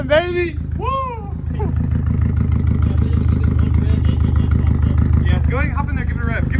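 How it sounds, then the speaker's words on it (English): Subaru WRX STI engine idling with a rough, uneven misfire, loud and close, while people talk over the running motor. "you can hear the misfire"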